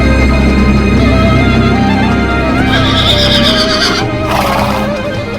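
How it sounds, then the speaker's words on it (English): A panicked stallion neighs loudly and repeatedly, shrill whinnies rising and falling close by, with hooves shifting underneath. "Only Alexander understood why the horse was in a panic."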